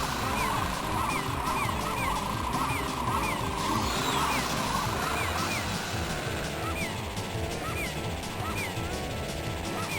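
Birds squawking in the Jurassic Park arcade video game, repeated honking cries in quick succession over crashing game noise and a dense, loud soundtrack, with no talking.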